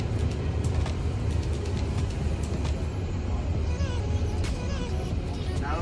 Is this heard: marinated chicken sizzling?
no